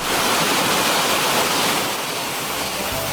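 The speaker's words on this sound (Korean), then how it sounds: "물소리가 듣기 좋은 계곡을 따라서 약 800m 정도 이동하면 영국 폭포가 나온다" Rushing water from a waterfall and mountain stream in a valley on Juheulsan near Mungyeong Saejae, a loud, steady broadband roar that fills the clip and eases slightly toward the end, with no voices.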